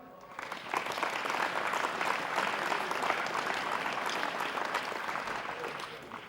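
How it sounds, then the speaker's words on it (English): An audience applauds at a team awards event, a dense wash of clapping that swells quickly and holds at a steady level for several seconds. "A round of applause."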